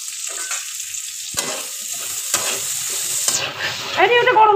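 Onions and chillies hitting a hot oiled wok, a loud close sizzle and hiss with a few sharp stirring scrapes, and a voice breaks in briefly at the end.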